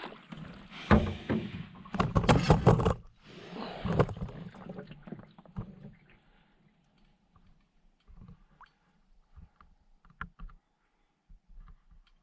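Canoe paddled across a lake on a solo wilderness trip in Quetico: close clunks and splashy strokes come in irregular bursts, then fade to sparse, quiet drips and knocks.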